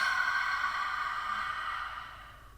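A long, steady exhale pushed out through the mouth during guided yoga breathing, airy and close, fading gradually over about two seconds.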